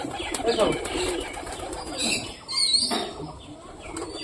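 Pigeons in a loft shuffle and coo close by, with a brief rustle of wings and soft scattered calls over low room noise.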